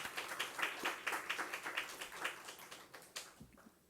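A church congregation at a Sunday service claps in praise and encouragement. The applause is faint and rhythmic, with a scattering of hands that thins out toward the end.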